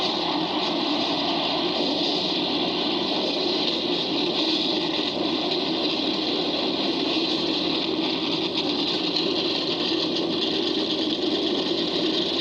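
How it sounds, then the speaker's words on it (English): Stock car engines running together on the starting grid of the 2004 Pepsi 400 at Daytona International Speedway, a loud, continuous, dense roar that holds steady throughout without talking. "Gentlemen, start your engines."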